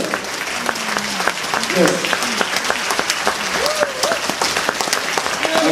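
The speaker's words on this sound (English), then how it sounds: "Big round of applause for the band." Concert crowd applauds the band at a Caribbean jazz show, loud sustained clapping with scattered cheers and whoops, a voice speaking briefly over it.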